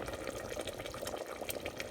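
Kevra water is poured into a simmering pot of mutton qorma, giving a steady, soft liquid splash and trickle that stays quiet and continuous, with no talking.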